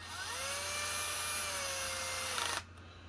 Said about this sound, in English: I use a Milwaukee battery screwdriver for this.